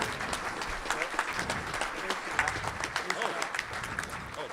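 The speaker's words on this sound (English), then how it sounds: "you can give him a round of applause." Applause at a Rotary Club meeting, a steady, full round of clapping from a gathered room, moderately loud, with voices murmuring beneath it.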